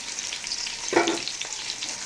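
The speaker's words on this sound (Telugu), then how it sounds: "కలుపుకొని ఒక నిమిషం రోస్ట్ అవనిద్దాం" Whole spices sizzle and fry in a pan for mutton biryani, a steady close crackle with a brief louder stir in the middle.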